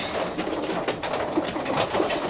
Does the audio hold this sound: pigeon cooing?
yes